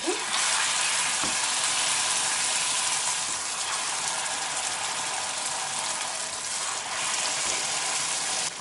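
One to two ladles of soup broth poured into a pan of onion, spice and tomato paste sauce, which sizzles loudly and steadily with a bubbling hiss throughout.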